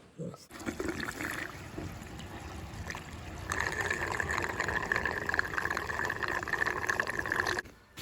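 Engine oil pours in a steady, close trickle into a Champion 12,000W portable generator, a light liquid stream running for several seconds before stopping.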